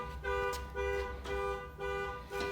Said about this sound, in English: And now the neighbor's horn is honking.